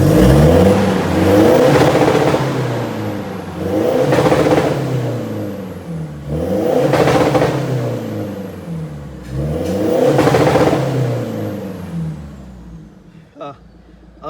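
A diesel Toyota Fortuner with a stage 3 tune revs up four times in a steady pattern, each rise climbing and falling back to idle, loud and close, with the engine settling and ticking at the end.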